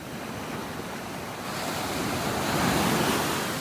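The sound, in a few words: ocean waves on the beach in North Naples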